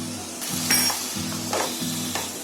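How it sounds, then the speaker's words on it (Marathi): Coconut, coriander and green chili paste sizzles loudly as it hits a pan of cooking vegetables, with steady frying hiss and a few stirring scrapes and soft clinks of a utensil against the pan. "आता त्याच्यामध्ये आहे ना हे आपलं खोबरं, कोथिंबीर आणि मिरची वाटलेली ही पेस्ट टाकते"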